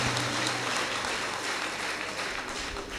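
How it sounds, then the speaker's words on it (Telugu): A church congregation claps steadily for visiting artists from Kerala at the consecration of a new church in Pachipenta, a dense, even patter of many hands heard from within the hall, with no voices over it. "అదనంగా కేరళ నుంచి వచ్చినటువంటి ఆర్టిస్టులు ఎవరైతే ఉన్నారో వాళ్ళు మనం చప్పట్లు కొట్టి మనం అందరం కూడా అభినందించాలి."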